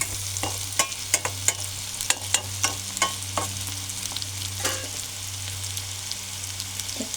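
Onions fry in a pan for dried ghee fish poriyal, a steady sizzle with frequent spatula scrapes and stirring clicks, close and moderately quiet, with a low steady hum underneath.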